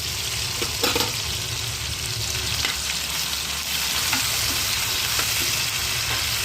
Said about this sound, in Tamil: கொத்தமல்லியும் நம்ம எண்ணெயில் வதக்கிடணும்